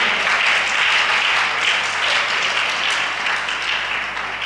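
Applause from a church congregation during a sermon forms a dense, continuous wash of many hands clapping together. It is loud and sustained throughout and tapers only slightly at the close.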